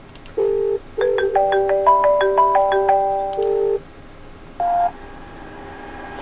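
Touch-tone keypad beeps dial extension 1001 on a FreePBX phone system, a quick run of stepped tones followed by a few longer ringback tones, loud and clear with no talk.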